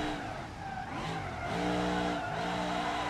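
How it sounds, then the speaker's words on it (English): A car in BeamNG drifts and spins out, its engine droning and wavering while tires squeal and skid in sweeping rising and falling tones, loud and close, with no voices. "that's not a good drift at all. I spun out."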